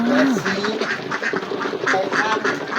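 Thai ducks in a pen quack repeatedly in quick, overlapping bursts close by, with a voice talking underneath.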